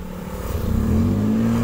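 A car engine revs up briefly with the clutch half engaged, its pitch climbing into a steady drone, heard up close with no voices.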